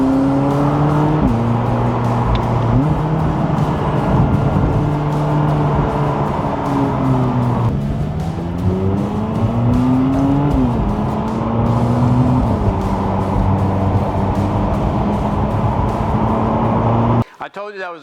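A 2018 McLaren 570S Convertible drives along with its engine droning and rising and falling through gear changes, loud and close throughout, while people talk over it.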